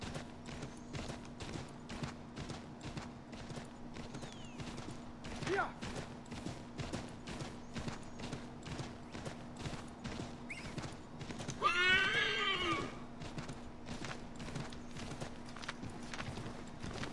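A horse in the video game Assassin's Creed III trots with steady rhythmic clip-clop hoofbeats over a constant low hum, and a loud whinny rises clearly midway before the hooves carry on.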